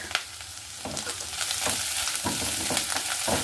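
Spice masala with onion frying for egg curry, a loud continuous sizzle broken by repeated scraping stirs, close up.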